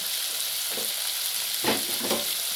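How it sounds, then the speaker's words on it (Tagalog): Softened mung beans going into a hot pan with pork spare ribs set off a steady, close frying hiss, with a brief louder burst of sizzle and stirring partway through. "Ilagay ko na ang pinalambot ko na munggo."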